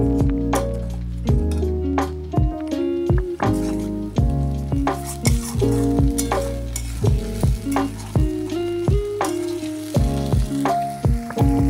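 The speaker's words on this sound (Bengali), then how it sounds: "তো একবারে গ্রেভি যখন আর কি কষাচ্ছে তখনই আর কি দেখালো।" Fish curry gravy cooks in a pan under repeated stirring, with a close, loud sizzle broken by rhythmic scraping and clinking strokes of a utensil and no voices.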